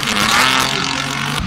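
Hyundai Genesis Coupe drift competition car built for Formula Drift, its engine revving loudly and steadily up close for a brief burst, a strong buzzing drone holding throughout.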